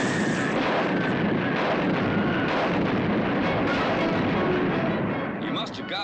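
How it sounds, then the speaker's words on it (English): A cartoon cannon fires from a ship, a heavy booming blast that rumbles continuously and fills the moment, loud and close before fading slightly at the end. "I'll get them with the cannon. I'll blast them off the ship."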